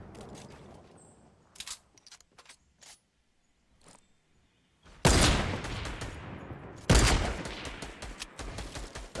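Bursts of gunfire in a Fortnite match, with scattered sharp shots first, then two loud sustained fusillades close by that ring out and decay.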